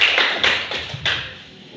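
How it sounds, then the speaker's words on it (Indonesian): Students in a classroom clap their hands in a short burst of four or five quick, sharp claps that fade out. "Tepuk tangan."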